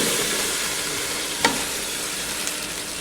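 Ivy gourd (dondakaya) pieces sizzling in hot oil, a dense steady frying hiss with a brief clatter of stirring partway through.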